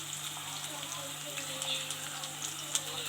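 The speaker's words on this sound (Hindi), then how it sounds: "ये देखिए तड़का हमारा फ्राई हो रहा है।" A tadka of browned onion with garlic and ginger paste fries in hot oil: a continuous close sizzle and crackle with a few sharp pops and faint stirring clicks.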